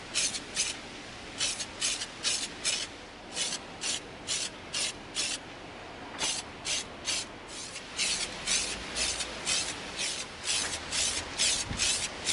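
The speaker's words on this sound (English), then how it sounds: "We're going to begin spraying parts of our Lawgiver with our flat antique nickel." Aerosol can spraying flat antique nickel paint onto EVA foam prop pieces outdoors: a long series of short, even hissing bursts in a steady rhythm, close and fairly loud, with a brief pause midway.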